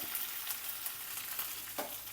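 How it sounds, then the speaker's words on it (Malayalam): Dried red chillies go into hot oil already holding mustard seeds and curry leaves for a tempering, giving a steady, close, crackling sizzle throughout with small spits and no voices. "2 വറ്റൽമുളക് ഇട്ട് കൊടുക്കാം."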